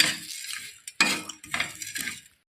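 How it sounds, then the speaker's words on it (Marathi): Whole garam masala spices are sautéed and stirred in a pan for a black masala blend, giving a few close bursts of scraping and rattling with soft sizzle between, alone with no voices. "गरम मसाला हे पण थोडं थोडंसं परतून घ्यायचं दोन मिनटं परतून घ्यायचं"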